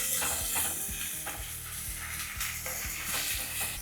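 Chopped medium-size tomato frying in a pan for egg fried rice biryani, a loud continuous sizzle with rhythmic scraping stir strokes recurring throughout, with a steady low hum underneath.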